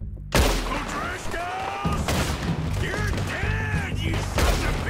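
Gunfire in Red Dead Redemption 2 cracks out in sharp bursts, a loud opening shot followed by repeated reports amid game clatter and music, with someone talking excitedly over it.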